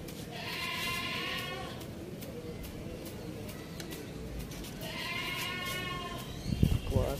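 A goat bleats behind a man vlogging during kite flying, with two drawn-out wavering cries a few seconds apart, heard over outdoor background noise and a brief bump near the end.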